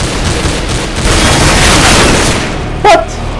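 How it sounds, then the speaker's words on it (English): A flashbang grenade goes off in the video game CS:GO amid loud, rumbling game noise, with a sharp electronic chirp near the end. "Flashbang."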